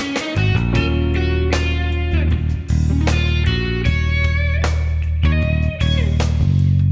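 Electric guitar played through a Mesa Boogie Vibra King amp with analog delay and spring reverb, clean bluesy jazz lines with picked notes and chords ringing out over a sustained low bass tone, loud and alone.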